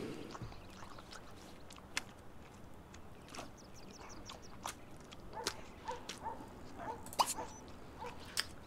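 Dogs in The Sims Pet Stories video game give scattered short barks and whimpers, with small clicks and game effects around them over a quiet background.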